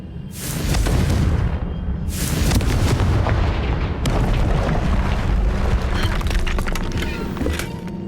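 Confringo spell blasting through a barrier in the Hogwarts Legacy video game: loud, booming explosive bursts, two sharp blasts followed by a sustained rumbling roar and crackling debris, close and full.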